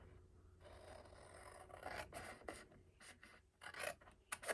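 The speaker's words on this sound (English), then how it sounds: "So grab your scissors and then just cut up the score lines on 2 of the sides opposite of each other" Scissors cut along the score lines of paper card, making a steady rasping, crunching sound in short bursts that grows louder toward the end, close up with no talk.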